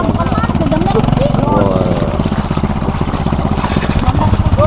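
A motorbike engine sputters and chugs on a flooded road during heavy rain, its loud, close, irregular pulsing rising and dipping as it struggles to keep running, with voices talking over it.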